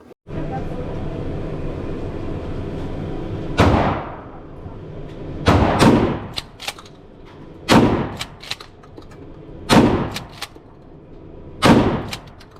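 A shotgun firing birdshot goes off five times at roughly two-second intervals, each loud, sharp blast trailing into a short decay over a steady background hum.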